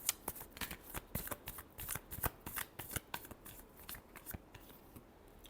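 Tarot cards are shuffled close up in quick, crisp riffling bursts, a rapid irregular patter of soft slaps and flutters with no talking.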